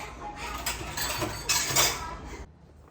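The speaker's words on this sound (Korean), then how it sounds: "아빠 설거지만 하고." Dishes and cutlery clinking as they are washed at a home kitchen sink, with a continuous run of close clatter and rattling that stops abruptly near the end.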